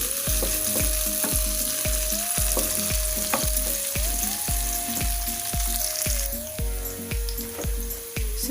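Sliced chillies fry in a pan for tempeh martabak, a loud steady sizzle with regular rhythmic scraping strokes of a spatula and a faint tonal hum underneath, no talking.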